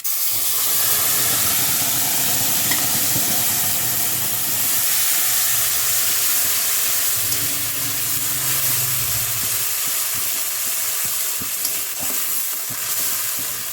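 Steady, loud sizzling of spices frying in hot oil for a fish curry, a continuous hiss with faint stirring scrapes, no voices.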